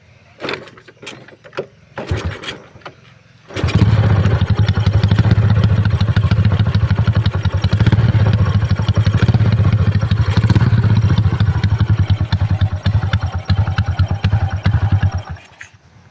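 A modified motorcycle engine clatters a few times, then fires up and runs loud and close with a steady rough idle for about twelve seconds before shutting off.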